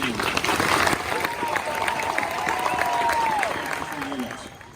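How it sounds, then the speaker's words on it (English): An outdoor crowd at a US Army Ranger graduation claps for the new class. The applause is loud and sustained, with a scattered texture, and tapers off near the end. "please join us in a round of applause for Ranger Class 1119"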